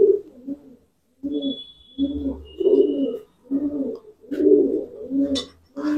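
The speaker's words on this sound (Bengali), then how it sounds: "এটা পিওর পায়রা, আমাদের বিলাটের পিওর পায়রা" Purebred pigeons coo up close in a series of soft, throaty, rolling calls, one after another with brief pauses, and a couple of faint chirps slip in between.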